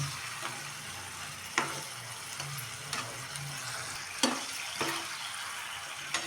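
Chicken stirred with yogurt and ginger garlic paste in a hot pan for Sunday chicken fry, a steady soft sizzle broken by a few scraping knocks of the spoon.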